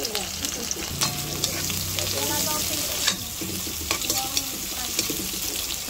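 Vegetables for pakbet sautéing in a pan, with a steady loud sizzle and repeated stirring scrapes running throughout, close by and with no voices.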